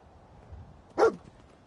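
Dogmeat, the canine companion in the video game Fallout 4, lets out a single short bark, fairly close and clear against a quiet, low ambient background.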